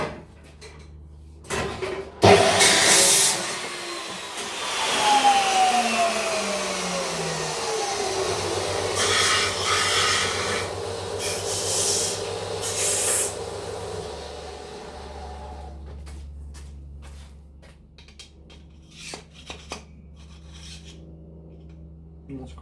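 Power tool cutting through a steel shaft, a loud rasping, grinding whine that rises and holds for several seconds, then winds down into quieter scraping and a few knocks.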